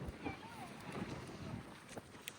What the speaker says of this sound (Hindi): मतलब ऑसम हवा चल रही है ना